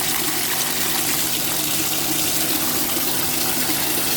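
Water pours steadily into a container for pigs on a pig farm, a continuous rushing gush at close range with no breaks or talking.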